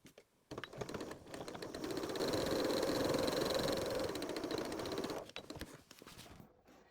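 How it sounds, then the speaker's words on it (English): A sewing machine stitching a short stitch along a marked line on fabric, a steady close mechanical whir that starts abruptly, runs about five seconds with rapid ticking texture, then stops. "Now I'm going to use a shorter stitch to stitch right along that line."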